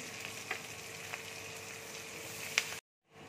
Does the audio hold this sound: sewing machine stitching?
no